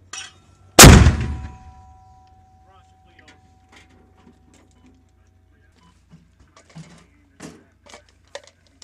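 A single US Army mortar round fires with a loud, sharp blast near the start, followed by a long decaying rumble; faint clanks and scattered small sounds follow in a quiet field setting.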